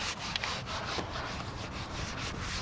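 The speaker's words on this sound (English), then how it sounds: "Got my Nanoskin scrub away brush." A Nanoskin scrub away brush is worked back and forth during car detailing, giving a rough, rhythmic rubbing and scratching sound in repeated close strokes, with no talking.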